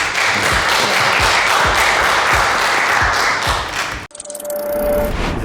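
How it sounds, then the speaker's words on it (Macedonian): Studio audience applauds cooking show contestants in a Macedonian kitchen competition, a loud, steady burst of clapping that cuts off abruptly, followed by quieter room sound. "Една аплауз за вас."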